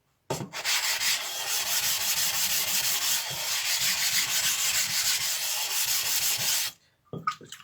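Steady abrasive rubbing of hard steel being polished on a 400 grit stone, a continuous close scrubbing stroke for about six seconds that stops abruptly, followed by a few faint handling knocks.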